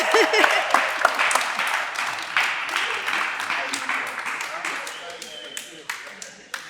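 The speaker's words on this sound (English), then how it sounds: "Give them a round of applause," Audience applause at a live show, a dense wash of many clapping hands that fades gradually over several seconds, with a few sharper individual claps near the end.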